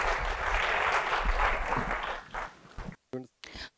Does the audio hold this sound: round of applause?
yes